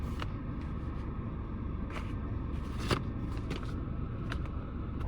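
A car driving on a New Zealand road toward a campground, a steady, even low rumble with faint rattles and a few soft knocks from inside the cabin, with nobody speaking.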